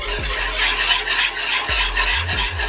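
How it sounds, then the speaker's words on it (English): A whisk stirs cream cheese and cream together in a hot pan for a Cajun shrimp Alfredo. It makes a steady, close scraping and swishing with a faint sizzle underneath, broken by a few low knocks against the pan. No one speaks. "we're going to stir this up a little bit. Give it a little whisk."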